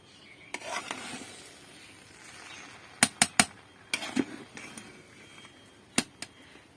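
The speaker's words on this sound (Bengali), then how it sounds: "এখন হচ্ছে ফাইনাল একটা নাড়া চারা দিয়ে" Cooked biryani gets a final stir in a pot, with scattered sharp metallic scrapes and clinks of a spoon against the vessel over a quiet background.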